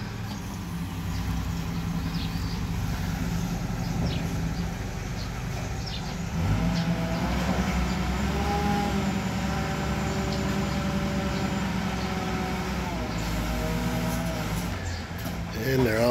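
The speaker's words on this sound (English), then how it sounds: "Mailman coming through on the motorcycle." A mailman's motorcycle engine runs steadily nearby in a village, its tone rising slightly midway as it moves past, with a voice talking over it.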